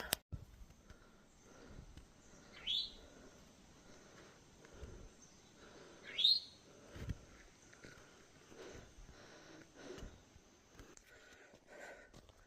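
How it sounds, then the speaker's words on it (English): A bird that looks like a robin gives two short, rising chirps a few seconds apart, heard at moderate distance over a quiet outdoor background with faint scattered rustling. "that bird there that looks just like a robin"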